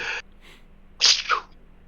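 A single sharp human sneeze, preceded by a short breathy intake, heard close and alone.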